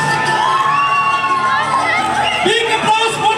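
Excited crowd at the Miss Capital 2021 pageant crowning, with high-pitched shouts, whoops and cheers over continuous chatter, loud and sustained throughout.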